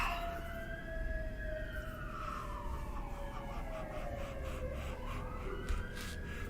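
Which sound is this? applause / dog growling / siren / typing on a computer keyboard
siren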